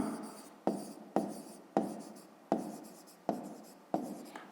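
A pen writes on paper while working a fifth-grade math exercise: a series of about eight quick, crisp strokes, each a sharp scratch fading out, heard close and alone.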